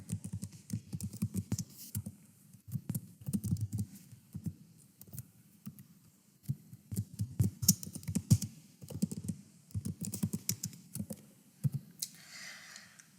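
A computer keyboard clicks away as a line of Python code is typed, quick irregular bursts of close, crisp keystrokes separated by short pauses, with no talking.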